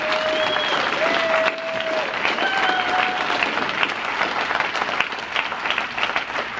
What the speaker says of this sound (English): everyone that was part of this convention committee deserve an applause for hanging in there and didn't give up.